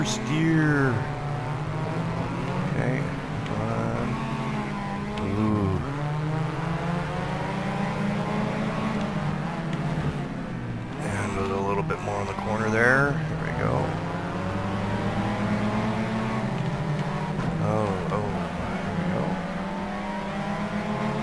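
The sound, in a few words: car engine in Shift 2 Unleashed racing video game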